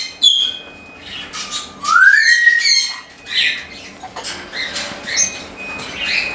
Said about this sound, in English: Are you my Technicolor cockatoo?